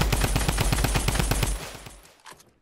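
Rapid automatic gunfire from a weapon in the video game Fortnite rattles out in dense, evenly spaced bursts for about a second and a half, then cuts off and fades into quiet.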